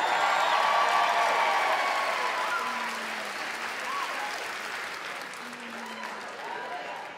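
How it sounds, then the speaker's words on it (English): Comedy club audience applauding a stand-up comedian, a steady wash of many hands clapping from a crowd that fades gradually over several seconds, with faint voices underneath. "y'all can keep clapping for me"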